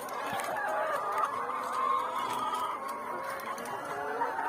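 Laying hens cluck steadily and overlapping on a poultry farm, a busy murmur of several birds close by with no talking.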